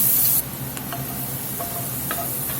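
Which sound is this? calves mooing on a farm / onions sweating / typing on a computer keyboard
onions sweating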